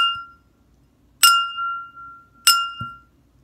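A drinking glass in a water-glass xylophone is struck twice, each strike giving a bright, clear ring that sustains and slowly fades. A soft low tap follows the second strike, and there is no talking.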